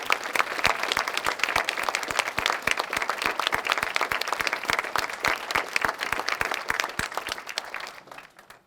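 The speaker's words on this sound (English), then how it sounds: "Please give every one of them a round of applause." An audience at a Quilts of Valor presentation ceremony gives veterans a round of applause, a sustained crowd clapping with prominent sharp nearby claps, fading out at the end.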